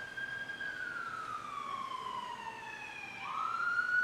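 Emergency vehicle sirens passing outside, a wailing tone sweeping slowly downward then rising again, moderately distant and steady, with no talking.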